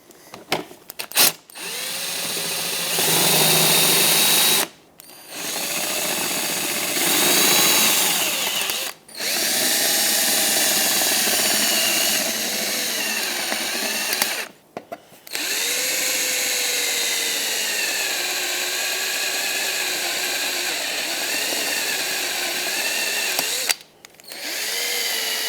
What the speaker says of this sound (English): and start drilling them out.